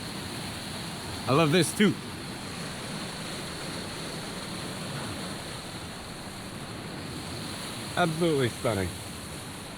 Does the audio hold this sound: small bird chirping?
no